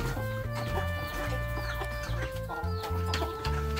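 Chickens in a backyard coop clucking repeatedly, several close, busy bird calls overlapping in an uneven rhythm with no talk.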